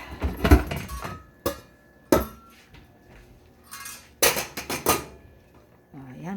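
A lid goes onto a cooking pot with several metallic clanks and clinks, sharp and close, separated by brief pauses, while a voice speaks briefly at the end.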